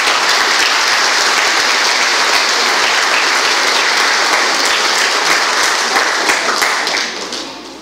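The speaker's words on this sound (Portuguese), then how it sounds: "Pode aplaudir, gente." Loud, sustained applause from guests at a collective wedding ceremony after a ring exchange; thick, continuous clapping fills the room for several seconds before tapering off at the end.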